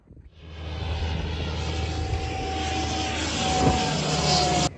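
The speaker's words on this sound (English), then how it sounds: "this is Border Force aircraft" Border Force patrol aircraft flying over a sailboat in calm seas off northern Australia, a steady engine drone that builds slightly louder toward the end and stops abruptly, with no voices.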